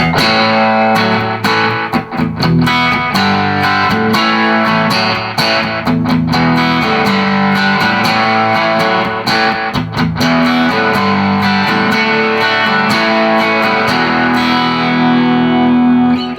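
Loud, heavily overdriven electric guitar chords on the bridge pickup through a Tone Master amp ring out continuously, thick and bright with sustained distortion and no voices.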